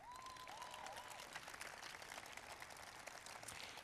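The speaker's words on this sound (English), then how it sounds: "Now you can clap." Audience applause at a 20th anniversary event for the Americans with Disabilities Act, a faint, distant, steady crowd clapping with a brief high whistle-like tone near the start.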